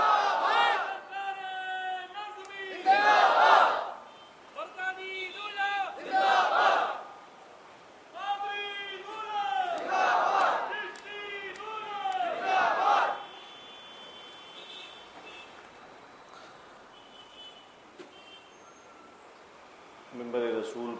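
Crowd at an Urs gathering in Mumbai chanting religious slogans in unison, answering a leader's call in repeated loud bursts of several seconds each, with a voice leading before each response.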